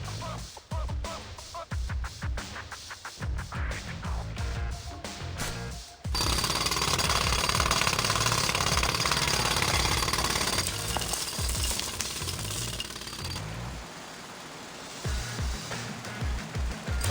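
Drilling and hammering a hole into a treatment facility reservoir in a Teenage Mutant Ninja Turtles game, a loud rattling jackhammer-like pounding in rapid bursts that gives way to a sustained grinding roar, with no talking.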